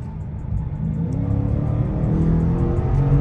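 A 2023 Dodge Challenger Scat Pack's engine heard from inside while driving: a steady low rumble that builds gradually as the car accelerates, loud and continuous with no talking.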